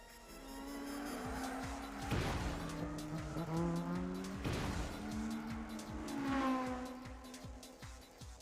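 A Toyota AE86 races through a corner in an anime street race, its engine note rising and falling in loud sweeping passes with tire squeal.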